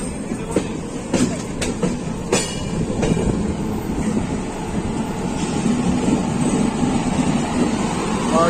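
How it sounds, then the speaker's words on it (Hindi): Sanghmitra Superfast Express train rolling into a platform at Nagpur railway station, a steady loud rumble of wheels and carriages with scattered clicks and clanks from the rails throughout. "हमारी ट्रेन प्लेटफॉर्म में एंट्री कर रही है"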